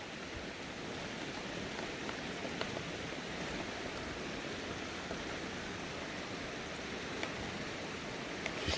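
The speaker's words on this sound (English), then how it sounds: "So here we are on the River Lyon" Steady, dense rush of the flowing River Lyon in Glen Lyon, heard close by as a continuous broadband wash with no talking and only a few faint clicks on top.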